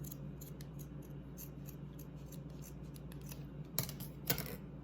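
Scissors cutting craft material for a Valentine gnome, a series of quiet, rapid snips over a low steady hum, ending with two louder, sharper closing cuts; no talking.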